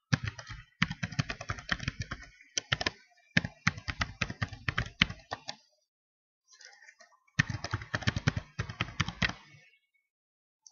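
Keys on a computer keyboard clatter in quick, uneven bursts as an email address and password are entered, with short pauses between runs of typing; close and fairly quiet.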